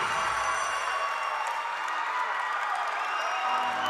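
A gymnastics crowd at an Iowa at Ohio State meet roars and applauds after a floor routine, a loud continuous wall of cheering and whoops that never lets up.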